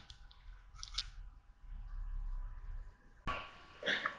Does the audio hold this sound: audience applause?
no